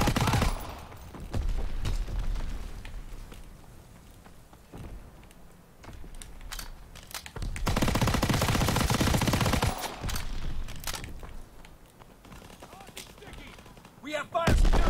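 Bursts of Tommy gun fire in Call of Duty WW2 multiplayer, several separate rapid volleys spread across the stretch, with a long sustained burst in the middle, mixed with other battlefield noise and someone talking.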